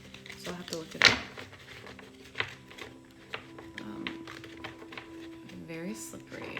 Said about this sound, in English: It's a very big deck. So we're just going to shuffle these.